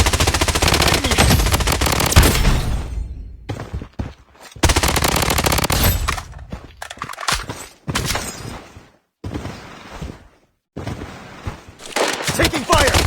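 Machine gun fire from the video game BloodStrike, with an MCX rifle and an MP5 in play, comes in loud close rapid bursts, broken by short pauses and game sounds.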